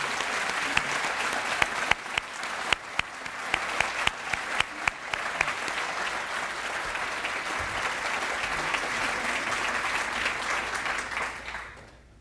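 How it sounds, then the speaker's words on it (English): An audience at a school fundraising event claps in loud, sustained applause that holds steady for about twelve seconds, then fades out. "Let's give them all a round of applause."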